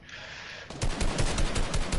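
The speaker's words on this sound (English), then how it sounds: "I'm being shot at." Rapid automatic gunfire in Fortnite starts abruptly after a brief quiet moment, a loud, close, evenly spaced burst of shots running to the end without talk.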